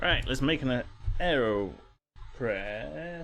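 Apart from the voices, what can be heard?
No everyday noise stands out behind the speech.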